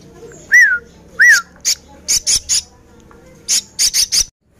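A hybrid white starling calls up close in loud bursts: a couple of rising squawking whistles, then a quick series of short harsh chirps in clusters, with quiet gaps between.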